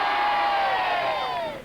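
Football fans cheering and chanting before the 1995 AFL Grand Final as the team departs Cardinia Park, a loud sustained crowd roar with rising voices that fades slightly at the end.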